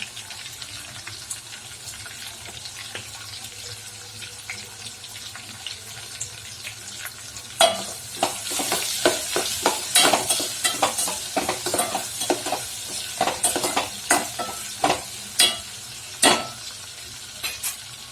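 Asafoetida crackles in a hot oil tempering for curd rice, a quiet low sizzle at first that turns into loud, rapid scraping stirs and clinks against the pan in the second half.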